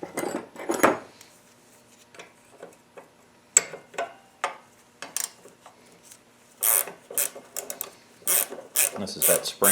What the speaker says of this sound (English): I do need to take that nut off of that.